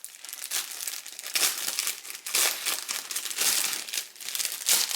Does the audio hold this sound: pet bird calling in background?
no